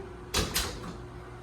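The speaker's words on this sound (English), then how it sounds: "I'm going to shut the door." An indoor door is pushed shut, giving two quick close thumps about a quarter second apart, fairly near and moderately loud, over quiet room tone with no talking.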